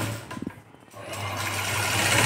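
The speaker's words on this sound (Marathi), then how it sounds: "आता कडेला शिवून घ्यायचं असं" A sewing machine stitches the side seam of a puff sleeve, starting with a few handling clicks, then a steady whirring run that grows louder and continues to the end.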